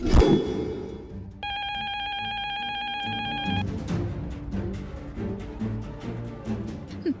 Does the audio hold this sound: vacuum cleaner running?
no